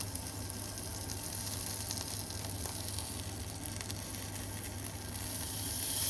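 Chicken sizzles and fries steadily in a pan in a small apartment kitchen, a continuous close crackling hiss with no voices over it.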